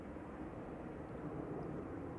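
A Boeing 737 MAX 8 jet airliner at Manchester Airport gives a steady, broad engine roar that holds at an even loudness throughout, with no talk over it.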